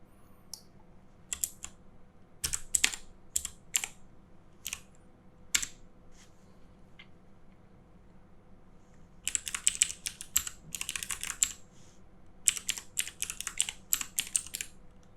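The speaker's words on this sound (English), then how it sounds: "let me just open a terminal. Alright, so this is just something where I can type stuff." A tiny handmade 30% keyboard is typed on in quick bursts of light, clicky keystrokes, close and clear, with pauses between runs and a faint background hum.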